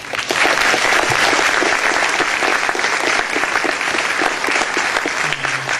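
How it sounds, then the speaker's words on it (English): Audience applauding at a planetarium forum on the U.S. space program, sustained dense clapping from a full room, loud and continuous for several seconds before tapering slightly at the end. "I know you all want to give them a round of applause."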